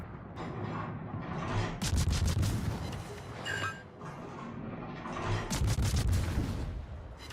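Warship guns fire in World of Warships in heavy, booming salvos that come in several loud clusters, each with a rumbling tail and layered cracks, close and dominant over the game's background.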